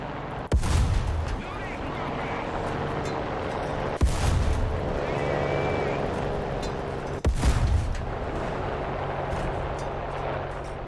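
A large artillery piece in War Thunder fires three heavy, echoing shots at spaced intervals, each a loud sharp blast with a long rumbling tail, while a voice talks quietly between them.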